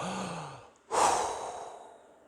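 A single deep breath drawn in and let out, close and clear, with a soft hum at the start and a brief pause before a loud airy exhale that fades slowly; no one speaks.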